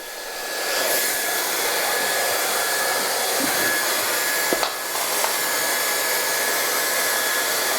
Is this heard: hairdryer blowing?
yes